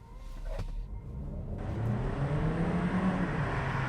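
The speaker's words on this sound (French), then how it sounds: "parlons de l'accélération. Je vais passer maintenant en mode sport." Hyundai Kona Hybrid accelerating in sport mode, its mid-pitched engine note rising and droning steadily louder as the car pulls away, heard from inside the car with no talking.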